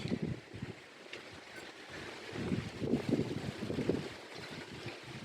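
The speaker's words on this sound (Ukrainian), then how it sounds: "Сьогодні у нас дуже великий вітер." Strong wind on a summer dacha plot buffets the microphone in rumbling, uneven gusts that rise and fall throughout, with no voices.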